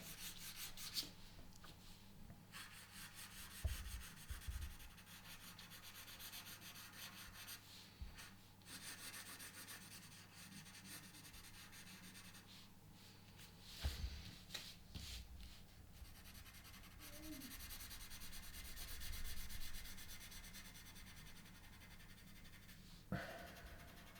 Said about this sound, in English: covering over your soft pencil with the hard pencil all the way around